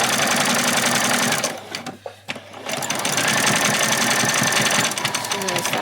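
Electric sewing machine stitching a ruffle on a doll's dress, a fast rattling needle run that stops briefly for a back stitch and then starts again, close and loud.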